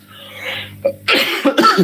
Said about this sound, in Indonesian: Mohon maaf bagi yang pakai headset ya, saya lagi batuk-batuk.